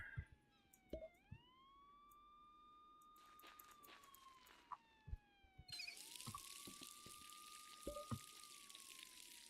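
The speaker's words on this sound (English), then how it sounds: "I love how that you can hear the siren in the background still wailing because the police car is literally trapped." A police car siren wails in the Schedule I video game, rising and falling in long steady sweeps in the background while short game clicks and thumps occur throughout.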